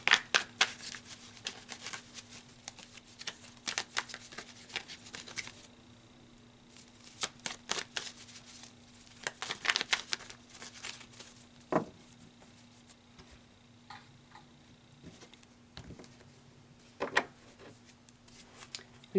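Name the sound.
tarot cards being shuffled and drawn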